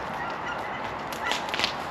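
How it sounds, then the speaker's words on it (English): Geese honk in a few scattered calls as they fly overhead, faint and distant over steady outdoor ambience at a homestead, with no talking. "Speaking of geese, Yeah. it's like on cue."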